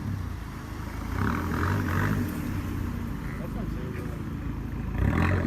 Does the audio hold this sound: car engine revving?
yes